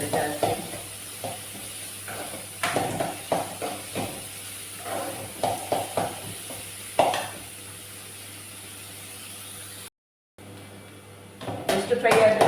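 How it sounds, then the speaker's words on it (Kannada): Onions frying in a pan with a soft continuous sizzle, broken by repeated scraping stirs at an uneven pace, with a voice talking over it and a brief dropout near the end. "ಒಂಚೂರು ಆನಿಯನ್ ಎಲ್ಲ ಸ್ವಲ್ಪ ರೋಸ್ಟ್ ಆಗಬೇಕು, ಫ್ರೈ ಆಗಿ ರೋಸ್ಟ್ ಆಗಬೇಕು."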